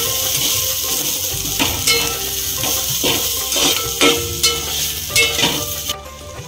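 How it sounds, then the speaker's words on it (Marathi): Grated coconut roasting in a pan for a prawn rassa gives a loud steady sizzle with repeated scraping stirs and faint utensil clinks, easing off at the very end. "खोबरं पण मी चांगलं परतून घेते."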